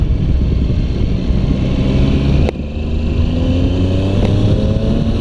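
A 2016 Triumph Tiger 800 XC three-cylinder motorcycle is ridden with a loud, steady engine drone and wind rush, the pitch rising through gears with a brief dip around a shift.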